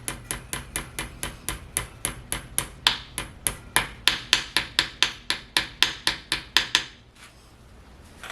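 A hammer knocks parts into place during assembly of a Ford 292 Y-Block V8 short block for a camper truck: about twenty-five sharp, evenly spaced metallic raps, close and loud, stopping abruptly before a quiet pause.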